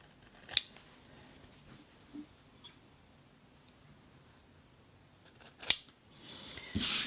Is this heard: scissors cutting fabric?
yes